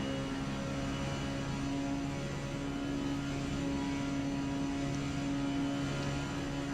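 Porsche 919 Hybrid race car in Forza Motorsport at Indianapolis, its engine holding a steady, sustained drone at very high speed for the whole stretch, with no talk over it.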